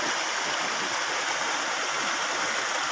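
Rushing stream water pours steadily along a bamboo-lined creek, a dense, continuous broadband roar that stays loud and even throughout with no voices over it.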